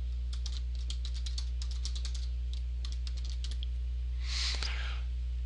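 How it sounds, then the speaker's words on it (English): Someone types an email address on a computer keyboard, producing quick bursts of close, crisp key clicks with short pauses, over a steady low hum and a soft rustle near the end. "maybe I want to put my email address in"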